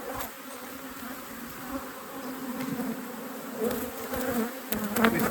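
Honey bees swarm and buzz loudly around an opened, productive beehive during a frame inspection, a dense, steady drone of many wings close by with occasional louder passes near the listener.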